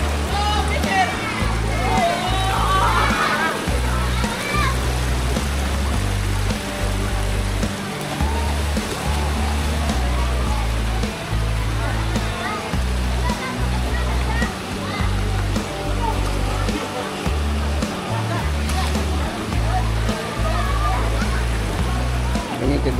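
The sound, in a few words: spring water flowing at Maambong Spring, Bohol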